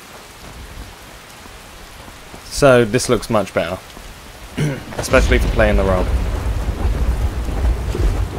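Steady rain and rumbling thunder from the video game Skyrim form a constant wash under a voice talking over it.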